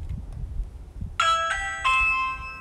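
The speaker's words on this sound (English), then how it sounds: "I'm gonna press it" A Ring Doorbell Pro chime rings in a series of bright, sustained bell tones, starting after a moment of low room rumble and ringing out clearly with no talk.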